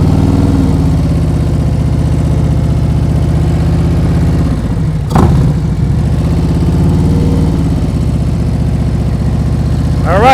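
Motorcycle engine ticking over in first gear at walking pace during slow-speed riding practice in Massachusetts, a close, steady idle-like thrum with a brief dip and blip midway, voices talking over it.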